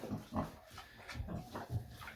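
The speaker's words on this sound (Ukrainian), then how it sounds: "от підросла свинка" A grown farm pig grunts and snuffles in short, irregular bursts close by, fairly quiet, with soft rustling between the grunts and no talking.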